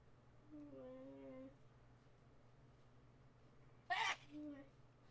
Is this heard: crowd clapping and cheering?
no